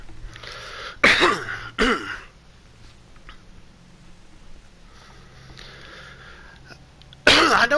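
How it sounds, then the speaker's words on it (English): Three harsh coughs: a pair of close bursts early on, a quiet stretch with faint rustling, then another loud cough at the end. "Sorry for coughing."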